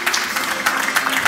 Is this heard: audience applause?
yes